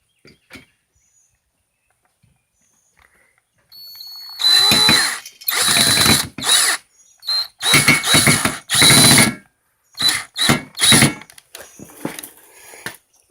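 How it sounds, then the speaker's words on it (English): A power drill whirs in repeated short bursts, starting and stopping as it drives in a screw, with quiet pauses between. "I'm going to put the drill on the slower speed"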